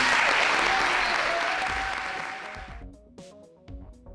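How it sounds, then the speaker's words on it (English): Loud applause from a crowd fills the space, then fades out over a few seconds into scattered claps and faint background noise. "So clap real big for yourselves."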